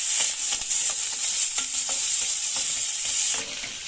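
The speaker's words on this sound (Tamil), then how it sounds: "2 மிளகாய், கொஞ்சமாக கருவேப்பிலை, கொஞ்சமாக பெருங்காயம் ஆட் பண்ணிக்கலாம். இப்போ இதை நல்லா மிக்ஸ் பண்ணிக்கலாம்." Chillies, curry leaves and asafoetida sizzle loudly in hot oil in a pan while a spoon stirs them, giving steady bright frying hiss broken by repeated scraping strokes.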